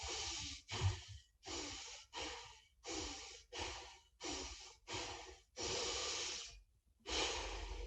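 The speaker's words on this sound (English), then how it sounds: "breathing in and out, connected without a pause, and 4 short, 1 long one" Connected breathing exercise, with rhythmic breaths in and out through the mouth and no pause between them, several short breaths and then one longer one. Close and hissy, repeated in a steady cycle with no talk.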